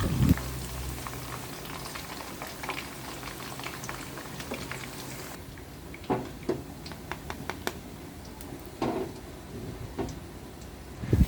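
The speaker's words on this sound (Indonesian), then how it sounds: "Goreng sampai tempe matang dan kekuningan." Tempeh fries in hot cooking oil until golden, a dense continuous sizzle and bubbling crackle with sharper pops scattered through, close and steady from start to finish.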